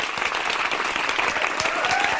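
An audience claps in a dense, steady round of applause that stays at a constant level throughout, with no voices rising above it.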